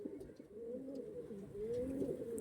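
A pigeon coos softly and close by in a quiet setting, a few low rolling coos running one into the next.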